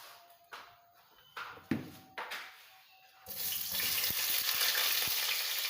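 Chopped onion goes into hot ghee, half a cup, for kadhi pakora. A few quiet clinks and bumps come first, then a loud, steady sizzle of frying that fills the rest of the clip.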